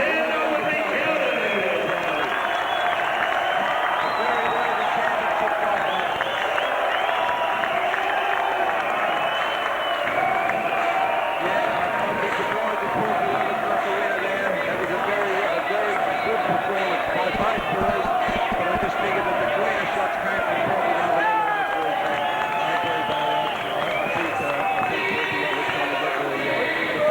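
A boxing crowd at Dandenong Basketball Stadium roars and cheers without a break through a super middleweight championship bout, a loud, dense wash of voices and clapping that never lets up.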